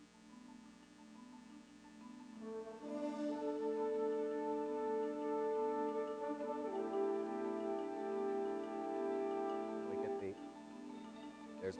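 Symphony orchestra playing a piece built on a Morse code rhythm, with sustained tonal chords swelling in and holding steadily, then a brief break of short accented notes near the end.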